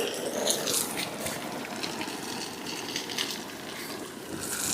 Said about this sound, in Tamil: அப்படியே ஸ்ப்ரே காட்டிட்டு இருக்காங்க வெயிலுக்கு.